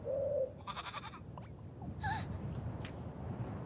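In the game Little Goody Two Shoes, a goat lets out a few short bleats and snorty cries at moderate distance over a quiet background.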